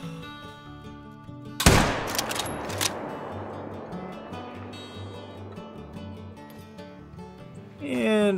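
A single loud rifle shot cracks out at a whitetail deer in a hunting video game, followed by a fading echo and ambient game sounds.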